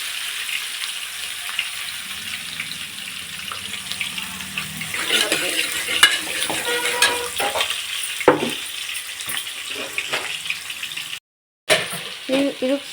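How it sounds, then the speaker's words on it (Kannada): Onion, carrot, beans and pigeon peas frying for upma in a home kitchen pan, a continuous sizzle with scraping stirs and some running water and clatter nearby, brief voices in the background. "ಈರುಳ್ಳಿ ಫ್ರೈ ಆಗ್ತಾಯಿದೆ."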